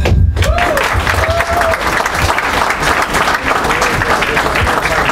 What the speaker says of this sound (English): A big round of applause for him, guys.